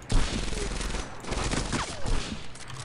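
A big gun fires in the Medal of Honor Airborne video game, loud repeated booming shots blending into dense battle noise with a faint voice underneath.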